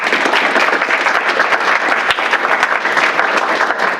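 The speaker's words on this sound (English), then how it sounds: "we can give him a round of applause" An audience at an advanced maths training session gives a lecturer a round of applause: dense, loud, sustained clapping from a full room that fills the whole stretch without any talk.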